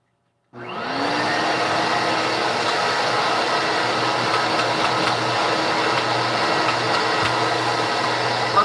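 A 1950s–80s Electrolux vacuum cleaner motor switches on and runs at a steady, loud, close whine with a broad airy roar, holding unchanged to the end.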